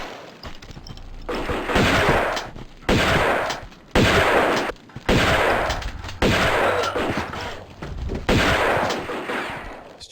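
Uzi bursts in Tomb Raider 2, with loud, rapid automatic fire in about six sustained bursts separated by brief silent gaps.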